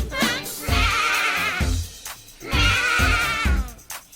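A voice imitates a sheep bleating twice, each a drawn-out, quavering baa, separated by a brief pause.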